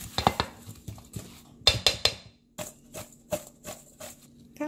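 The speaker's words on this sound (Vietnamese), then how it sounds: "Các bạn trộn đều." Ginger being mixed with sugar in a bowl, a utensil clinking and scraping against the bowl in quick repeated strokes, close and fairly loud with brief pauses between bursts.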